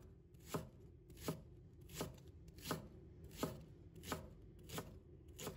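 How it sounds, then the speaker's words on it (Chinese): A knife chops half a leek-like scallion (green onion) into short pieces on a cutting board, giving eight evenly spaced, soft thuds at a steady rhythm, close and quiet with no talking. "把它切成小段。"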